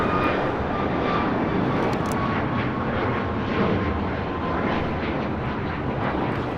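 A United Airlines Boeing 737 MAX 9 takes off from LAX, its jet engines a loud, steady broadband roar that holds level throughout.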